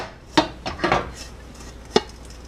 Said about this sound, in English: Put a plate over the pan.